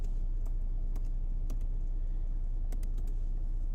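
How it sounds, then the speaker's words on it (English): Keys on a computer keyboard click in scattered taps and short bursts over a low steady hum, faint and close. "Let me type in PBS"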